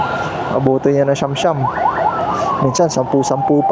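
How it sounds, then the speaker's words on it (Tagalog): An ambulance siren wails loud and close in heavy traffic as the ambulance counterflows, its rising and falling yelp and warble tones repeating throughout, with a person speaking briefly over it. "Nag-counterflow na yung ambulansya kasi sobrang traffic dito sa part na to eh."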